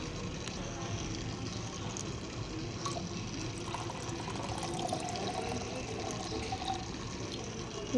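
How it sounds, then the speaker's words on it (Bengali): Coconut water is poured in a steady, continuous stream to prepare a ritual bath for deity idols on Shivaratri, with a soft liquid rush lasting throughout. "ডাবের জলটা নিই চলো আমি জলটা রেডি করে দিই"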